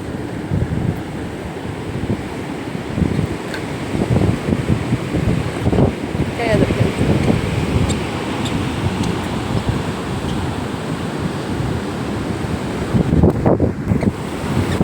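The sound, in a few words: sea waves crashing on beach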